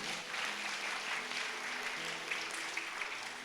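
A church congregation claps together during a fasting prayer service, a dense, steady wash of hand claps at moderate level lasting a few seconds, with faint background voices underneath.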